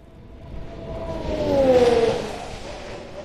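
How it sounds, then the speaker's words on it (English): A Formula 1 car at Barcelona testing approaches on the run down to turn 1 and brakes hard, its engine note rising as it nears and then dropping away, moderately distant over a quiet background. "you'll be able to hear just how late after that 100-metre board they're hitting the brakes on the run down to turn 1"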